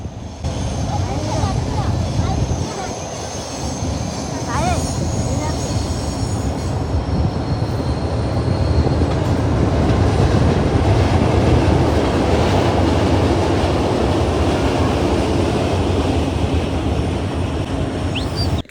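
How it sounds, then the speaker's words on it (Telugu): A train rumbles steadily across a bridge over the Godavari river at Rajahmundry, heard from a boat on the water as a continuous loud roar of wheels and rail clatter that fills the whole stretch. "ఈలోపు ట్రైన్ సౌండ్ వినిపించింది."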